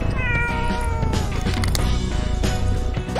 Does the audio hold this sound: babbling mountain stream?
no